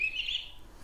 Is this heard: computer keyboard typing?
no